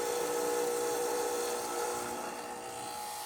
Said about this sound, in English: now we're just going to quickly test the machine by running a shot